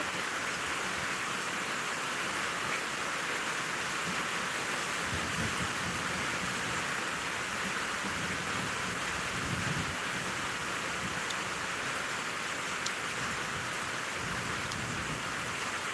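Steady rain falls continuously, a dense hiss of drops with faint low rumbles underneath and no talking.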